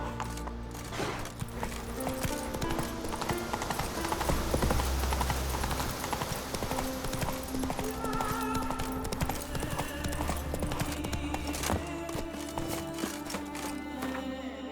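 Roach, a horse in The Witcher 3, gallops with a steady rapid clip-clop of hooves under a layer of game music and ambience, with a whinny rising partway through.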